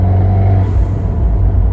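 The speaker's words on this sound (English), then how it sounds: "You just hear every little thing, oh, the blow valve, the exhaust, everything's just amplified." A turbocharged Fiat 124 Spider Abarth engine rumbles steadily up close with a deep, continuous exhaust drone and a brief airy hiss of the blow-off valve partway through.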